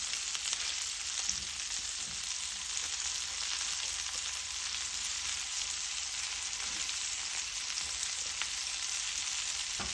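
Butterflied shrimp sauté in a hot pan, giving off a steady, close sizzle and crackle of frying that runs unbroken from start to finish with no voices.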